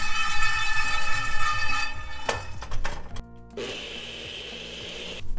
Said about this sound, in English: I'm just gonna blend it one more time to get it as smooth as I would like it to be